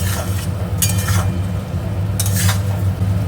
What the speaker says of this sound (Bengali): এবার সব কিছু দিয়ে মশলাটাকে ভালো করে কষিয়ে নেব